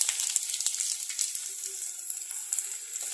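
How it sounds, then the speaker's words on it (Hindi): Garlic and ginger frying over a low flame for a baby corn mixed vegetable dish, heard as a close, steady crackling sizzle with rapid small pops throughout. "अब हम इसके ऊपर डालेंगे अपना जिंजर"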